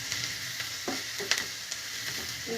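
Sliced onions sizzle steadily in a pan, salted and stirred while cooking Kerala-style, with occasional scrapes and clicks of the spoon over the constant fry hiss.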